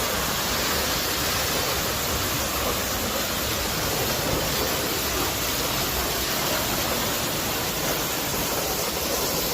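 Eagle Creek waterfall roaring steadily from inside the rock tunnel behind the falls, a dense, constant hiss of falling water filling the whole span at close range with no letup.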